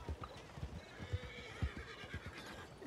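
A horse in the video game RedM, quiet snorting and a whinny over slow clip-clop hoofbeats, faint and close, with no talk.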